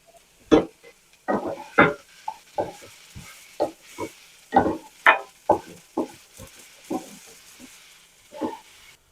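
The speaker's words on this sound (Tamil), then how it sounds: "ஒரு நிமிஷம் அந்த வாசனை போட்டு வதக்கிட்டு அதுக்கப்புறம் பாலக்கீரையை போட்டுக்கலாம்." Onion with garam masala and spinach is stirred in a pan, with a spatula scraping and knocking in a steady series of sharp, close strokes over a faint sizzle.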